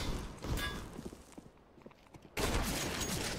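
AK rifle gunfire in Counter-Strike Wingman: a short burst early on, then quieter footsteps and mechanical clicks, and a sustained loud volley of shots at the end.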